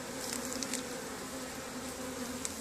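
Swarm of bees buzzing steadily and continuously, a dense droning hum that holds level throughout, with no speech.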